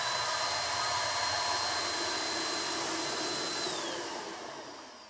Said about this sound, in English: I'm just going to show you just a little bit to show you the airflow coming out of it.